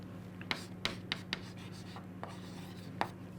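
Pen writing an equation during a physics lesson, close quiet scratching strokes with several sharp taps as the pen meets the surface, over a low steady hum and with no talking.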